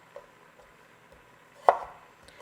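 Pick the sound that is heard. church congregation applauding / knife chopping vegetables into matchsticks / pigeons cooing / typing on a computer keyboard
knife chopping vegetables into matchsticks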